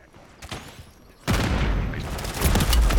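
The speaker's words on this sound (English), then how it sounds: "Semtex going in." A Semtex grenade detonates in Call of Duty: Warzone Resurgence, a sudden loud broadband blast that cuts in partway through and rolls into sustained rumbling gunfire and battle noise.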